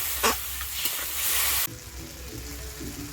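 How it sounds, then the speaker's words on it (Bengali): Masala spices sizzle loudly in a hot pan as a splash of water goes in, a harsh hiss lasting about a second and a half, then settling into a quieter, steady frying with faint stirring. "আর মশলাটা যাতে পুড়ে নেওয়া যায় সেই জন্য একটু হালকা করে দিয়ে দেবো জল, দিয়ে মশলাটা ভালো করে কষিয়ে নেব।"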